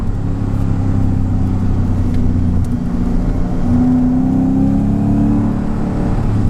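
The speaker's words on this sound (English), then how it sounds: "the car's been able to rev up in a way where I can actually hear the supercharger." A Mercedes-Benz E55 AMG W210 engine with a Kleemann supercharger and a misfire revs steadily, the supercharger's rising whine layered over a deep, continuous rumble, loud and close throughout.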